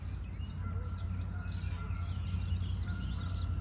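Birds call and chirp in a wetland with a beaver dam in Cuyahoga Valley National Park, Ohio, a busy chorus of scattered, fairly faint calls over a steady background hum.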